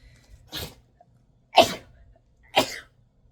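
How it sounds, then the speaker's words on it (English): Three sharp sneezes, about a second apart, close and fairly loud, with quiet pauses between them. "You sneeze, and then I sneezed 4 times."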